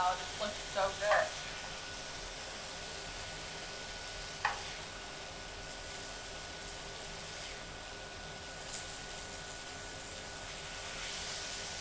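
Raw onions tossed into a hot pan: a broad, steady sizzle runs the whole time, opening with a few light clatters of pieces landing and a single knock midway, close and moderately loud.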